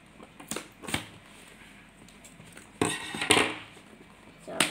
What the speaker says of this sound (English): Snip this bad boy out. Here's my scissors.